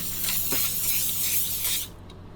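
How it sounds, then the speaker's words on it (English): A steady hiss of aerosol cooking spray lasts nearly two seconds, then cuts off abruptly. "we have a grease spray, which is super handy"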